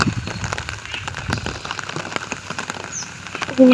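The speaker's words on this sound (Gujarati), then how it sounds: "ફૂલ પ્યોર ગુજરાતીમાં ફૂલ વરસાદ પડે છે" Heavy rain pours down on open farm fields, a dense, continuous patter of drops close by, steady throughout with no voices over it.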